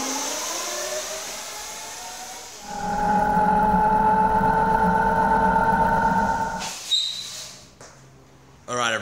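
A modded Razor E300 electric scooter ridden hard, with a steady high electric motor whine that rises as it speeds up, holds for several seconds, then fades, plus some rattling and wind, and a voice briefly heard.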